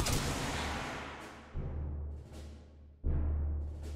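Rifle volleys from a firing squad in Return of the Obra Dinn, three loud booming shots spaced about a second and a half apart, each ringing out and decaying slowly with a long echo.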